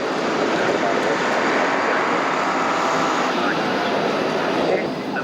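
A Sopwith Pup World War I fighter biplane at the 1988 Biggin Hill Airshow passes with a continuous droning engine roar, broad and steady, slightly fading at the end, while a voice speaks over it.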